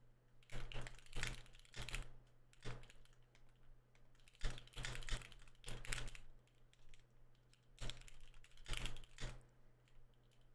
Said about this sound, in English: Typing ASMR